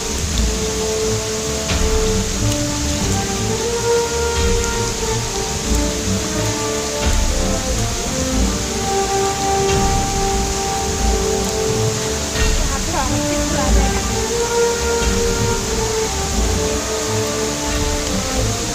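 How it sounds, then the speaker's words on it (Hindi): Heavy rainy-season waterfall at Panchkundi, Giroudpuri, pouring steadily into rock pools, a dense continuous wash of water throughout with faint voices under it. "ये झरना है बहुत जबरदस्त।"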